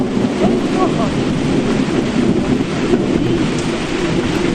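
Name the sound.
rain with thunderstorm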